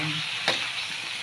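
Cabbage with pork sizzling steadily in a pan at close range, broken by a single quick scrape of a spatula stirring through it.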